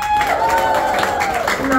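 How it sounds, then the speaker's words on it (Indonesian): Audience applause breaks out at a company gathering in Medan, a dense patter of clapping that stays steady, with a voice speaking over it. "Tepuk tangan dulu."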